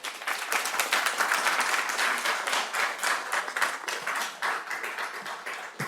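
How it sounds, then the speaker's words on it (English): Audience applause fills a board of education meeting room, a steady wash of many hands clapping at fairly close range, sustained and even for several seconds with no talk over it. "Please refrain from applause."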